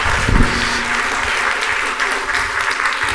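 A lecture audience applauds to welcome the speaker, a loud, close wash of many hands clapping continuously for a few seconds, with a brief voice near the start.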